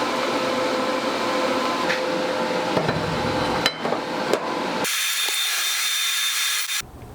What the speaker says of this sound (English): I'm going to weld the back side first, or at least get the back side tacked on there first